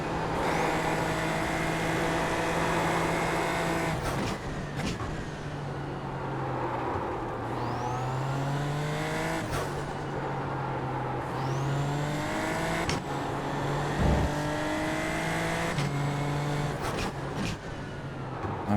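Racing cars on a circuit, including a group of cars just ahead, roar continuously with engine pitch repeatedly climbing through gear changes and dropping on shifts, loud and close throughout.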